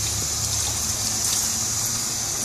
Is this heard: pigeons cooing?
no